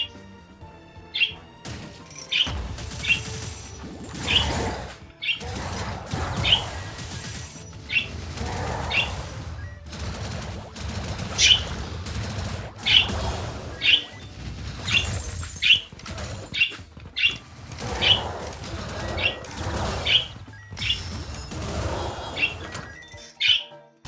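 Real birds outside squawk and chirp in short, repeated high calls behind the sounds of a Wizard of Legend game session, scattered across the whole stretch at a moderate distance.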